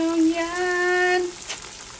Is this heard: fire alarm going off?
no